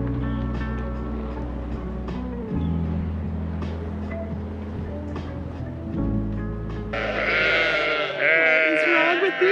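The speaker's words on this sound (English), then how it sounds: "What is wrong with these sheep?" Sheep bleat repeatedly in a field with long wavering calls, some overlapping, with a louder, rougher bleat near the end.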